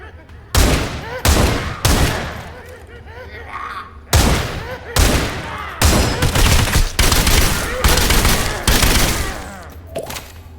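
Piggy bank rifle in the game Sulfur fires repeatedly, loud close shots in uneven bursts with echoing tails, some spaced apart and others in rapid clusters, with a voice talking over parts.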